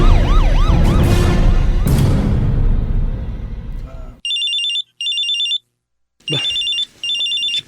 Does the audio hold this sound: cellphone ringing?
yes